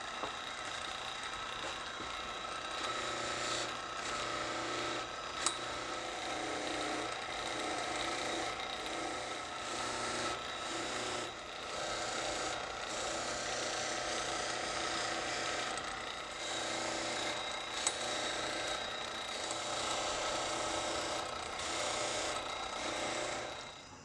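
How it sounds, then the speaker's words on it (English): A bench buffing wheel loaded with blue compound polishes a handmade shaving brush handle, giving a steady, continuous whirring hiss with faint rubbing scrapes throughout and no talking. "Then I buff the entire brush on a buffing wheel using blue compound."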